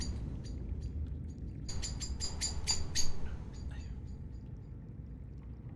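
Bird calls in the game Subnautica sound as a cluster of sharp, bright chirps over a low rumbling ambient wash, mid-distance and moderately loud, then a few fainter trailing calls.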